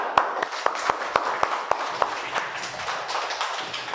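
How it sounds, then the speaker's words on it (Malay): A class audience gives a short round of applause, a few distinct claps at first, then thinning into scattered faint clapping. "Bagi tepukan sikit."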